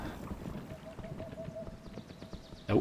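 A horse's hooves clip-clop in a quick running rhythm in the video game Kingdom New Lands, with a steady tone and game-like sound effects layered over it.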